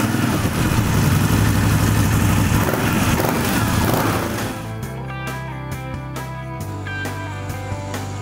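A Moto Guzzi motorcycle engine idles through a Remus exhaust, a loud, steady rumble for about four seconds that then drops away beneath quieter tonal, music-like sounds.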